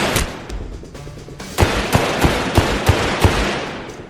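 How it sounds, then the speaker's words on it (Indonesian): Film gunfire cracks out in a rapid run of sharp shots, about five evenly spaced bursts in the latter half after quieter scattered pops, fairly loud with no speech. "meskipun berhadapan dengan dirinya sendiri di masa depan, ia tetap menembaknya hingga tewas"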